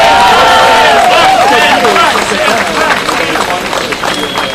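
A large crowd at a Patriots' Day rally in Quebec claps and cheers loudly and without a break, with shrill whistles and shouting voices riding over the dense, steady roar.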